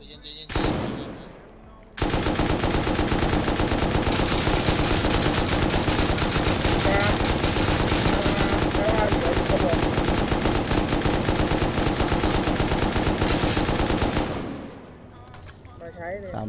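Sustained, loud automatic gunfire from the survival video game Rust rattles almost continuously for about twelve seconds after a brief opening burst, then tapers away near the end.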